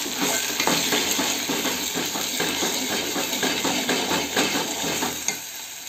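Masala being stirred into fish gravy in a pan, a steady bubbling sizzle with soft scraping strokes running continuously at close range, no voices.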